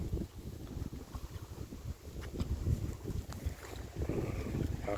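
Wind blows along the bank of the Mekong River in a steady, gusty rumble that is close to the microphone and buffets it, with no voices heard.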